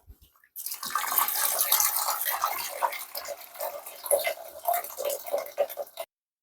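Hot water streams into a bowl for quick ramen soup, a steady close splashing pour running about five seconds before it stops abruptly.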